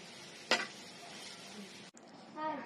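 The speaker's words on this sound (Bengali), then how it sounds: "ফাইনালি সজনে পাতার বড়াগুলি ভেজে ফেললাম" Drumstick-leaf fritters sizzle in oil: a steady frying hiss broken by a sharp stirring clatter near the start, with a brief voice toward the end.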